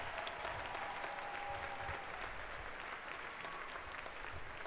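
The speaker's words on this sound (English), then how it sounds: "You can applaud for these students" A graduation audience at a spring 2022 undergraduate commencement applauds cum laude graduates, a steady, dense wash of many hands clapping throughout, moderately distant and even, with no talk over it.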